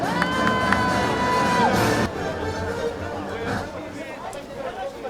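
A rally crowd at an outdoor protest cheers, whoops and claps loudly as a new leader is welcomed to the stage, with dense overlapping voices that ease slightly after the first couple of seconds.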